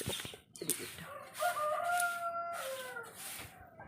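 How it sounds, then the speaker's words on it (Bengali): A chicken clucks and crows outdoors on an overcast morning, with a drawn-out crow rising over a busy background of other birds, moderately near and alone without talk. "মুরগি আবার মুরগিও ডাকছে"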